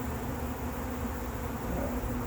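Honeybee colony droning steadily and continuously at close range, a dense low hum with no pauses and no voices.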